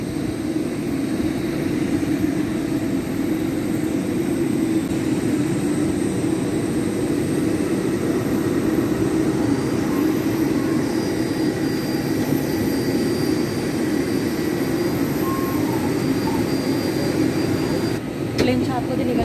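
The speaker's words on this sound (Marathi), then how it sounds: "समोर प्लेन आहे" A passenger jet at an airport gate gives a steady, loud whining roar with a low rumble, continuous and unbroken while people talk near it.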